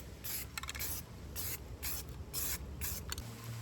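Aerosol spray paint applied to a VW Jetta wheel cover rim, heard as about seven short hissing bursts of a close spray can in a steady on-off rhythm, with no voice.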